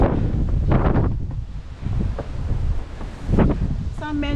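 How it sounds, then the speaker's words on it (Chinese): Strong, cold wind gusts on the 3,143 m summit of Mount Fansipan, roaring and buffeting the microphone in uneven bursts, with a brief voice near the end. "因为那个风真的是太大了"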